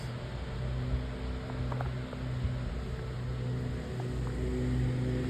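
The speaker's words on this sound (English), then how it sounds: "There's a landscaping company here getting all their clients in this area done today" Landscaping equipment drones steadily in the background of a residential neighborhood, a constant low motor hum that stays even and unbroken throughout.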